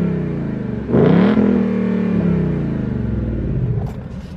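A 2019 Ford Mustang GT 5.0 V8 in track exhaust mode revs sharply, then settles into a deep, loud, rumbling exhaust drone close by.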